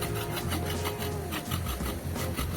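Fresh coconut being grated by hand for sundal, a steady rasping scrape repeating in quick rhythmic strokes, close and continuous with no voices.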